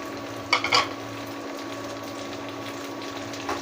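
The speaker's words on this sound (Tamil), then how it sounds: "வெங்காயம் வதங்க ஆரம்பிச்சிருச்சு" Onions sautéing in a pan while dal rice is being cooked, giving a steady, soft sizzle with a few brief metallic clinks near the start and no talking.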